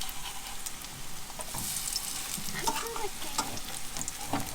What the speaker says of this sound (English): I didn't get them as crispy as I wanted to because I probably should have a bit more oil in the pan